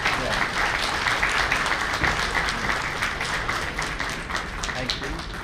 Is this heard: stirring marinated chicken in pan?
no